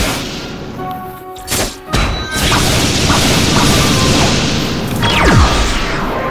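A heavy explosive boom from a bazooka in the video game Block Sports hits after a few quick thuds, followed by a sustained roaring blast and crackling rumble.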